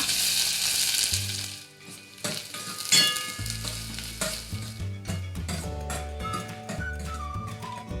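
Finely chopped onion fries in hot oil in a pan for a Malvani prawn meal. A loud sizzle bursts at the start as the onion goes in, then settles into softer frying crackle with stirring clinks. Faint background music plays and no one speaks.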